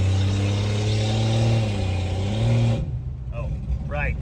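A 1963 Plymouth Valiant with a slant six engine revs loudly while driving, its strong low drone holding steady before the engine drops off abruptly, leaving quieter running with someone talking over it.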